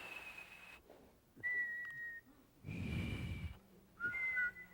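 A man whistles an imitation of the White's thrush, the so-called ghost bird: three long, thin, steady tones with gaps between them, the last slightly wavering, each sounded alone with audible breaths.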